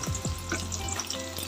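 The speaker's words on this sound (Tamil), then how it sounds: "இப்போ வந்து வெங்காயத்தை போட்டுக்கலாம்." Sliced onions sizzle and fry in a hot pan for a potato and capsicum curry, a steady close crackle with a few stirring scrapes and no talking.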